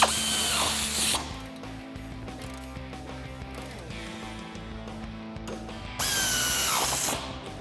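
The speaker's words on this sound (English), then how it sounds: "All right, let's tighten up this shock." Power tool tightening a coilover shock bolt on a 1994-2004 Mustang, a loud whirring burst at the start and another near the end, with quieter mechanical clicks and rattles between.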